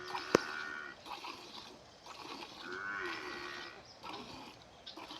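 Farm buffaloes low several times during milking, quiet drawn-out moos rising and falling over a faint background with one brief sharp knock near the start.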